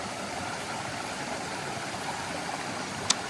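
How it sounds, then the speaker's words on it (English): A small waterfall in a forest of big fern trees gives a soft, steady wash of falling water at some distance, with a single sharp click near the end. "There's like a bit of a waterfall just on the other side."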